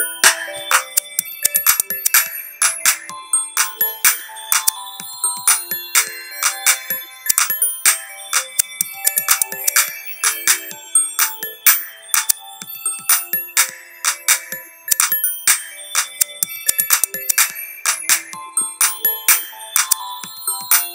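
An early-stage electronic song made in Ableton plays alone: a rapid, bright, bell-like synth pattern of crisp plucked tones repeats in a steady rhythm, with no bass and no voices.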